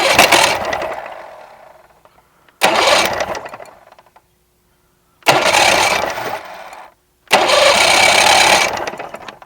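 A Mercury 850 85 hp outboard engine with a carburetor problem is cranked four times, each a loud sputtering burst that fails to catch, with silent gaps between attempts.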